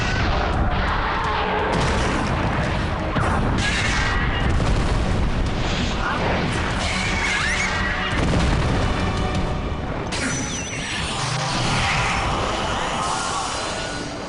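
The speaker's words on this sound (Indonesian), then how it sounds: "Ledakan penghancur!" Destructive blast in an animated action battle: a loud, continuous, roaring rumble of explosions and booming blasts fills the whole stretch with dense noise, with no clear breaks.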